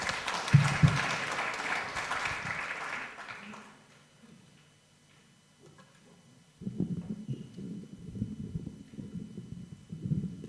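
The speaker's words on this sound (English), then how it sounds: "Please, applause." Applause breaks out at an academic conference session on ecological value as a professor is introduced. Clapping runs for about three seconds and then fades into a quiet hall. Low murmuring and shuffling follow.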